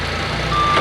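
A vehicle backing up gives a steady reversing beep over loud, close engine rumble at a bulldozer work site.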